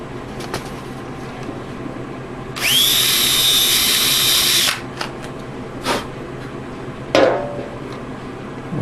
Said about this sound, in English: I will now drill out this hole with a number 29 drill for a 632 by 1 inch long screw, machine screw.